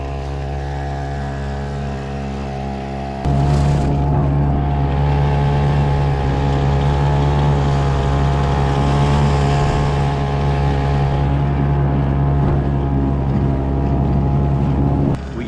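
A Hankai 3.6 budget outboard motor on a kayak drones loud and steady during a top speed test on the ocean, starting after a few seconds of quieter background and holding a constant buzzing pitch.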